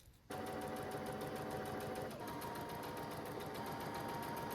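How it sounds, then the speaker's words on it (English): Sewing machine stitching darts and side seams of a dress skirt, a close, continuous rapid whirr that starts abruptly and runs steadily without pause or talk. "Best to start off sewing up your darts first on your back and your front, and then we can sew up the side seams."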